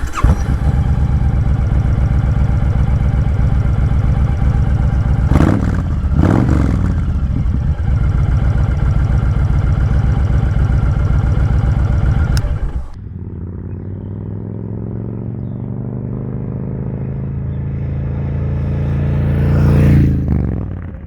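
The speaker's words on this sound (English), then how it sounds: "So now let's fire up the bike and see how it sounds." A 2020 Honda Fury motorcycle with Cobra 3-inch slip-on exhaust pipes idles and revs loudly up close with a deep exhaust rumble, then settles into a lower idle before one more rev near the end.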